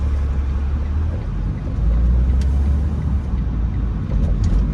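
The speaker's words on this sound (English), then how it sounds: "we got a car coming with full speed on my right" A car speeds past on a city street in Savannah's Tatemville neighborhood, a steady, loud low rumble of engine and road noise heard from inside a moving vehicle, with no distinct pass-by peak standing out.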